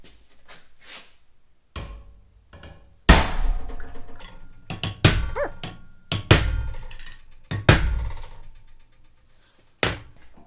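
Heavy hammer blows strike the metal cowl of a 1937 Ford Sedan Delivery with sharp, ringing impacts, spaced irregularly with pauses between, close and loud with no talking.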